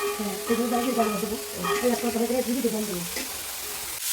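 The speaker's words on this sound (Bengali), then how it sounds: "এবার এগুলো হেলেনি মেরে মেরে দেওয়া হবে।" Vegetable stalks are stir-fried in oil in a wok, giving a soft continuous sizzle broken by repeated scraping and tossing strokes of a spatula, close and moderately loud, with a brief clatter near the end.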